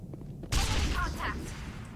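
A fusion explosive detonating in Mass Effect, a single sudden loud blast with a rumbling tail.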